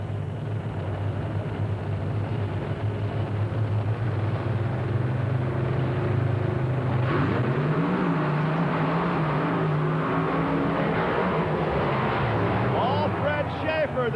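Monster truck engines at the starting line of a 1995 drag race in Lima, Ohio, a steady loud drone with a rising rev midway, heard under a commentator's talk.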